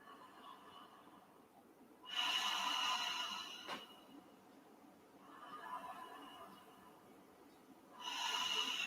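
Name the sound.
Ujjayi breathing with throat constriction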